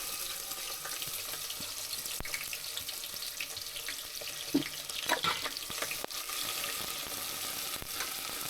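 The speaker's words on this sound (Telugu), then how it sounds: "తర్వాత ఆయిల్ హీట్ ఎక్కిన తర్వాత మనం ఆనియన్స్ వేసేసుకుందాము." Onions frying in hot oil in a pan for a chicken curry, a steady close sizzle with a few stirring scrapes and clinks throughout, no talking.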